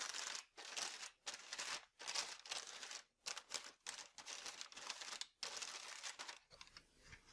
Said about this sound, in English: Now to get some of this residual grease off, I'll just use a paper towel and pick it up